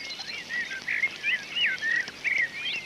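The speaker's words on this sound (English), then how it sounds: "not so the birds of the stream. They sang with joy their chorus in praise of another new day." Several birds sing a lively dawn chorus beside a stream, with rapid overlapping chirps and warbled phrases repeating close by in steady succession over a soft ambient hiss, with no voices.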